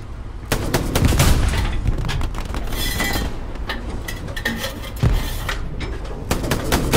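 Rapid bursts of automatic gunfire crack through a Hell Let Loose battle as soldiers fire on enemies at their spawn point, loud and close, with sharp repeated volleys and short gaps between them.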